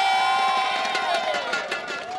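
A cheering squad at the 2017 SEA Games torch relay in Malaysia shouts and whoops together outdoors. The sustained, loud crowd cheer fills the whole moment with overlapping voices.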